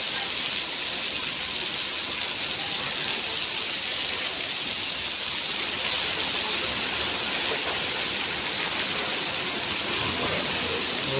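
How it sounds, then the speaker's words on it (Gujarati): Heavy rain pouring down in the Matel area of Morbi, Gujarat, a dense, unbroken roar of falling water, loud and steady throughout with no voices. "મોરબીના માટલ વિસ્તારમાં એકદમ જોરદાર વરસાદ વરસી રહ્યો છે"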